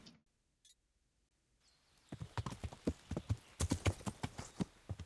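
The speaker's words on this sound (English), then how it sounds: "Maybe the horse is too loud." Horse hooves clip-clopping on the ground in the video game Kingdom Come Deliverance, starting after a near-silent stretch, then a close, fairly loud run of rhythmic hoofbeats at a steady trot.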